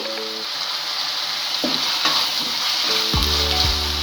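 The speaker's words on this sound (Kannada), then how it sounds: "ಈಗ ಈರುಳ್ಳಿ ಟೊಮೊಟೊ ಚೆನ್ನಾಗಿ ಫ್ರೈ ಆಗಿದೆ" Onion and tomato frying in a pan for a North Karnataka stuffed brinjal dish: a loud, steady sizzle with a few scraping stirs of a spatula against the pan.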